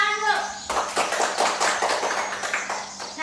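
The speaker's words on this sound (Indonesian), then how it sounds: "Tepuk tangan, Bro." A class of pupils applauds a group's performance during a school lesson, a brisk run of scattered hand claps lasting a few seconds with children's voices mixed in.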